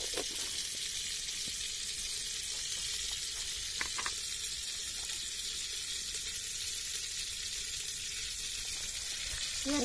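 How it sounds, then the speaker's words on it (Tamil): Mustard seeds crackle in hot oil for a village herbal rasam, a steady close sizzle with a few sharp pops scattered through it and no voices. "கடுகு பொரிஞ்சிருச்சு"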